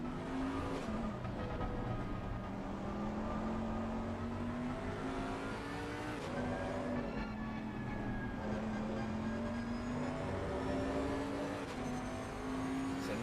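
A BMW race car's engine revs loudly and steadily in a PS5 racing game at Spa, its droning pitch rising and dipping through gear changes with no break for the whole stretch.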